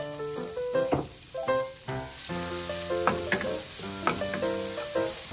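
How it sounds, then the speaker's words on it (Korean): Minced garlic sizzling in melted butter in a pan for garlic shrimp fried rice, a continuous bright crackle heard alongside a louder, tonal layer of background music throughout. "마늘이 약간 노릇노릇할 정도로 이렇게 볶아줍니다."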